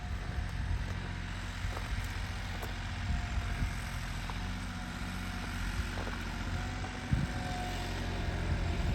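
Steady low engine drone of a diesel tractor, its rotary fuel pump converted to an inline pump, running continuously with faint clicks and knocks over the rumble.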